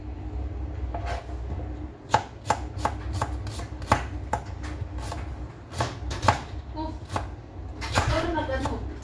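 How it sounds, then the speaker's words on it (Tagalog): Onions are chopped with a knife on a cutting board at close range, sharp uneven knocks in scattered bursts, with voices talking in the background between cuts. "Ano kayang technique mo pag maghiwa ng sibuyas na hindi ka hindi ka iyak ba?"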